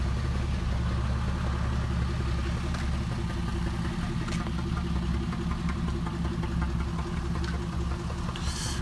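A Ferrari engine idling at a Supercar Sunday cars-and-coffee meet, a steady, loud, low rumble that holds evenly throughout with light background clatter and no talk.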